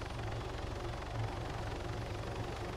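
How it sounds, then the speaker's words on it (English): A helicopter in the video game Arma 3 gives a steady, dense rotor and engine drone that stays close and loud, with no talking. "Helicopter."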